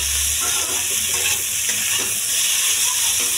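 Tomato frying in a pan while making egg noodles, a loud continuous sizzle with occasional stirring scrapes, close up and without talk.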